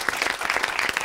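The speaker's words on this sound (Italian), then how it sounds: "Facciamo un applauso e salutiamo anche." Applause from a studio audience greeting a motocross world champion from Faenza on an Italian racing talk show, a short steady burst of many hands clapping.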